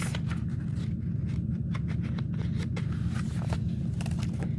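A stack of printed paper handled on a desk, with soft rustles and sheet flips running steadily over a constant low background hum, close and continuous without speech.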